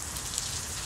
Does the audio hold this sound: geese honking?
no